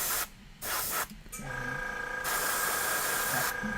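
Aerosol spray primer hissing in bursts as white paint is sprayed onto miniature models, short blasts at first and then a long steady hiss, close and fairly loud.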